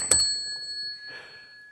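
A small bell in a house rings once with a bright, sharp ding, then a thin tone lingers and slowly fades into quiet room air.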